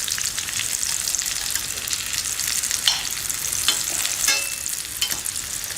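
Meat sears in a hot pan with a steady, bright sizzle and frying hiss throughout, close and fairly loud, broken by occasional small pops and stirring scrapes.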